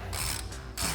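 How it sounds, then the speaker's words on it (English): A ratchet fitted with a 10mm socket clicks rapidly while tightening a bolt on a new front brake caliper of a 2012-2020 Dodge Charger, two close bursts of ratcheting in about one second. "we'll switch to a 10mm socket for our new bolt"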